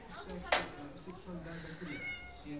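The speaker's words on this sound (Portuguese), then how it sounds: "Esse é um gatinho novo." A small kitten gives thin, high meows in short bursts while a person talks nearby, with a sharp click near the start.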